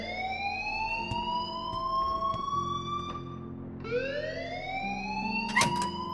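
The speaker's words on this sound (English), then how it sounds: "please turn off that alarm since that's your job" Electronic alarm blaring in the video game Life is Strange, a rising, wailing siren-like tone that repeats in sweeping cycles, loud and steady with a faint background hum and a brief click near the end.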